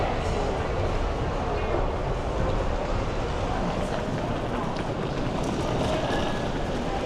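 A Rome metro train rumbles at Termini station with a steady, loud, broadband roar that fills the whole stretch, with voices mixed into the noise.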